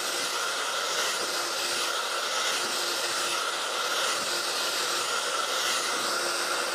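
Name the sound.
hair dryer blow-drying side-parted bangs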